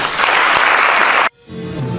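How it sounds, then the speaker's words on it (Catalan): A theatre audience at a concert bursts into dense, loud applause that fills the room, then stops abruptly, leaving a quieter tail of room sound. "Però els hi demanaria un gran aplaudiment per ell."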